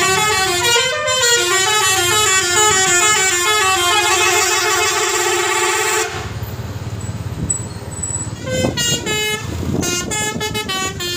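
A loud air horn on a Persita Tangerang bus plays a rapid, melodic series of honking tones, then pauses and resumes with more short toots over street noise.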